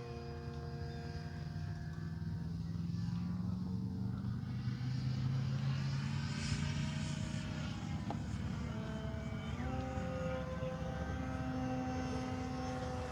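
Continuous engine drone of an Avios Extra NG radio-controlled airplane flying aerobatics outdoors, the propeller pitch sliding up and down as it maneuvers, steady and fairly loud with no talking.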